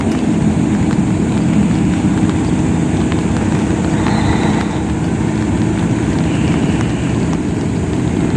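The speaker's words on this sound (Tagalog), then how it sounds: "Malakas na po ang ulan nito guys" Heavy rain pours outdoors as a dense, steady, loud hiss that holds unbroken from start to finish, with no voices over it.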